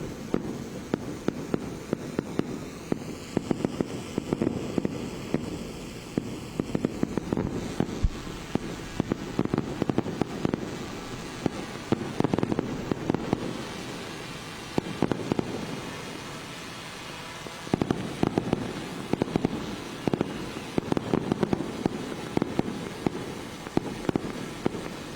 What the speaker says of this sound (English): Fireworks being displayed there.